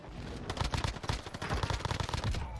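Rapid bursts of ZRG sniper rifle fire and other gunfire in the Warzone Caldera video game, dense overlapping shots crackling steadily with a loud game soundtrack underneath throughout.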